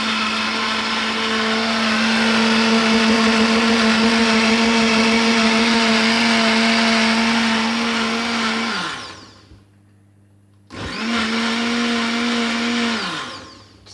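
A kitchen blender blitzes mushroom sauce meant for salmon, a loud steady motor roar that winds down, pauses briefly, then starts up again and spins down, close with no talking.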